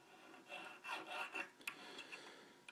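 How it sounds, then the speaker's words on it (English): A small jeweler's file rasps gently across a metal ball crank handle in a series of short, uneven strokes, close and quiet, with brief pauses between passes and no talk. "just gently file away the marks"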